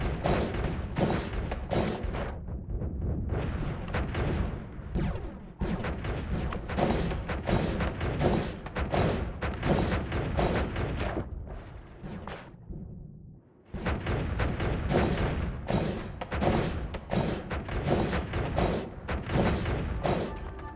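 Explosions trade back and forth in the video game Noita, a relentless barrage of loud, close booms and thuds in rapid succession, dropping briefly to a quieter stretch before the blasts resume.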